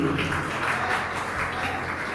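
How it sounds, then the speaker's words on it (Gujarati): Sustained audience applause welcoming the president of a rationalist association at a rationalist convention, a dense steady wash of clapping with no pauses, fairly loud and without talk. "સ્વાગત અને તાળીઓ"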